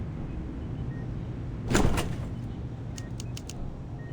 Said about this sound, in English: Doors unlocked.